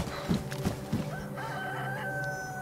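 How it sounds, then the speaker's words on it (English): A chicken in a video game clucks in a few quick, close bursts, then a rooster crow rings out more faintly over steady game ambience. "That chicken."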